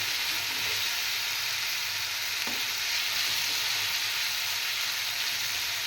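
Potatoes and chopped helencha greens sizzle steadily as they are stirred in a frying pan, a continuous close hiss of hot oil with a faint scrape of the spoon.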